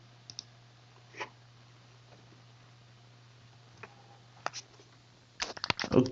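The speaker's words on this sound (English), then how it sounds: "Okay, click on create repository." Sparse computer mouse clicks sound while creating a repository in SourceTree, a few isolated faint taps followed by a quick cluster of louder clicks near the end over a low steady hum.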